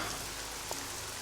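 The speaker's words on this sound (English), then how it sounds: "I like that I'm just wandering around in, like, the rain here." Steady rain falls in the video game Nancy Drew: The Legend of the Crystal Skull on a dark, stormy night, a continuous close hiss of drops on surfaces with no voices over it.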